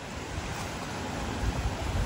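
Fawn Creek flowing beside a backcountry campsite in Yellowstone, a steady, loud broadband rush of moving water that holds constant throughout with no voices.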